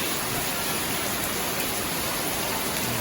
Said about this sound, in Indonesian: Kembali hujan deras.